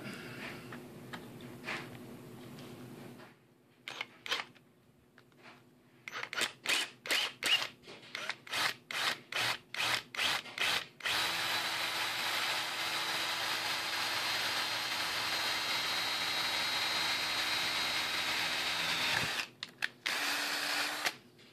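A bigger drill bit boring into a Beeman RS2 air rifle stock for a sling mount, heard as a run of quick rhythmic bursts followed by a long steady close drilling whir that stops near the end.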